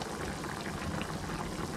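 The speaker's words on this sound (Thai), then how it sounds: "เรามาดูตอนเดือดอีกทีนึงครับผม เอาแล้วครับเพื่อนๆตอนนี้มัน เดือดแล้ว" Broth for Thai noodle soup rolls at a steady boil in a pot, a close, continuous bubbling hiss with no voices.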